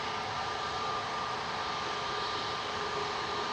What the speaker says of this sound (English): That was EasyJet 2015 to Alicante, GZTZ departing.